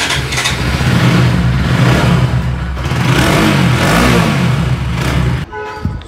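A Bajaj Pulsar NS 200 motorcycle engine runs loud and close, revving in rising and falling surges for several seconds before cutting back to a quieter idle near the end.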